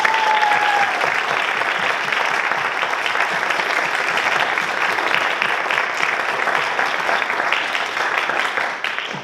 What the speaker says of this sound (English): can I just give a special round of applause to everybody?